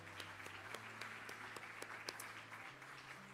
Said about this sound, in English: Can we clap for the minister and the panelists one more time?